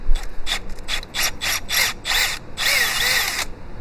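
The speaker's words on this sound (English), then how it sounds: "the step drill bit really does the magic" A step drill bit bites into metal in a series of short, harsh grinding bursts, then one longer continuous grind, loud and close.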